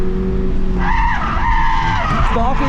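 A 2022 Subaru BRZ with its stock exhaust is driven hard on a race track, its engine droning steadily close by while the tires squeal and skid through corners, with a few words spoken faintly over it.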